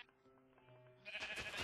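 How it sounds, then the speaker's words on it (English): Sheep bleating in the Minecraft video game, a brief wavering bleat rising loud near the end after a quieter stretch of game sounds. "It's a brown sheep."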